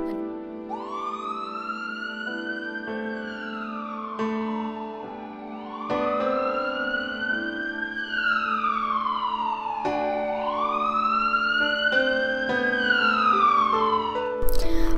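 Wailing emergency siren of an ambulance in the Minecraft video game, rising and falling in long sweeps that repeat about three times, loud and continuous over a soft synth music bed.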